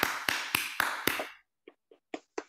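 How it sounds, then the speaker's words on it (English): Applause from a few participants through unmuted microphones in an online lecture meeting on peatlands, five sharp evenly spaced claps followed by a brief gap and four thinner, quieter claps. "let's give Clifton a very heartfelt round of applause"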